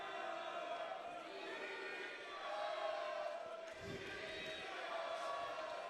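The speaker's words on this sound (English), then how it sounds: "We are hearing from the Bracero fans in the audience." Boxing crowd at a live fight cheering and roaring for a fighter landing big punches, a steady loud wash of voices with a swell near the middle, commentary running over it.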